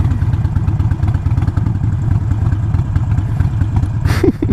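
Harley-Davidson Iron 883 motorcycle with a Vance & Hines Fuelpak FP3 tuner, engine loud and close as the throttle is opened and the clutch eased out, a steady rumbling V-twin building revs.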